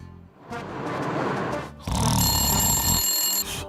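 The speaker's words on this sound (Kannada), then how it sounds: "ಪತ್ಲು ಕಂಪನಿಗೆ ಅರ್ಜೆಂಟ್ ಆಗಿ ಒಂದು ಫೋನ್ ಮಾಡೋ" A cartoon telephone rings in short electronic bursts, loud and close, with background music underneath and a brief pause before the second ringing stretch.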